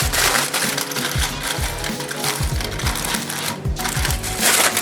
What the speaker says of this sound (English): I'm going to take aluminum foil, and I'm just going to crumple it up